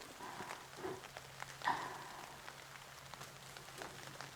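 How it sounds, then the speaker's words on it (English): Light rain falling outdoors, a soft, faint patter of drops with a few slightly louder taps, calm and without voices. "I've got rain here, so let's see if I can get any rain to meet my tongue."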